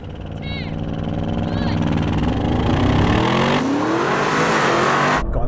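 An Audi RS and an Audi e-tron GT launch hard from a race start, a loud roaring engine sweep rising in pitch as the petrol car revs through gears, with tire noise and brief voices at the start.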